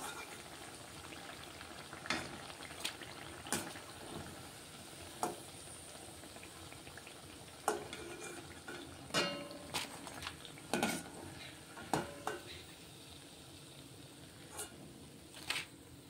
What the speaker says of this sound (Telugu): చూడండి, ఇవి కూడా ఫ్రై అయిపోతున్నాయి. ఇప్పుడు ఇవి కూడా తీసేసుకున్నాం. ఇలా కొంచెం స్లోగానే వీటిని ఫ్రై చేసుకోవాలి